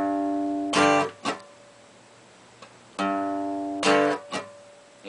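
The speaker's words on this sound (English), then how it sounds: "he's going to hit the root note, and then he's going to strum the chord, both with downstrokes." Acoustic guitar strummed in a repeating pattern: a root note and a downstroke chord, then a light muted scratch upstroke, played twice and close up, fairly quiet and alone.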